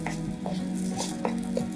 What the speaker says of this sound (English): I just took a couple pieces of the butter and I'm mixing it with the flour